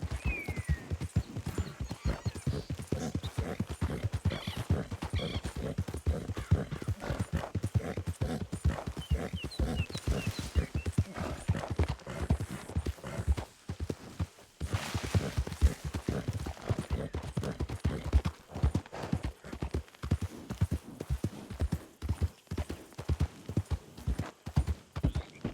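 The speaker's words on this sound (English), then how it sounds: "Let's hide the horse." A horse walks with steady, rhythmic clip-clopping hooves close by, a brief whinny partway through and little else besides.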